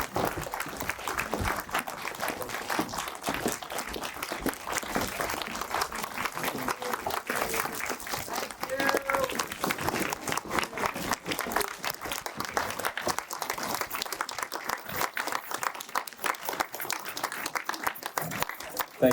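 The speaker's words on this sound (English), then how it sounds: "give our cast and the performers a big round of applause" An audience at a Shen Yun premiere in Toronto applauds the cast and performers, with rapid, uneven clapping that rises and falls across the clip while voices talk over it.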